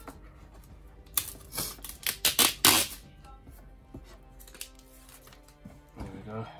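Cardboard and plastic packaging of a Hot Toys collectible box being pulled open, a burst of crisp rustling and tearing scrapes mid-clip, with quieter handling afterward and a short voice near the end.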